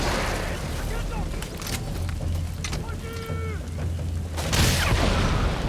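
Rocket launcher blast from the Metal Gear Solid V: The Phantom Pain game, a broad booming burst near the end over constant rumbling game noise, with a voice talking throughout.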